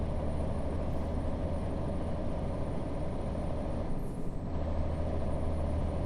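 A Mack R truck hauling a Fruehauf trailer on a simulator run gives a steady, loud engine drone and road rumble with no letup, a brief hiss near the end, and no voices.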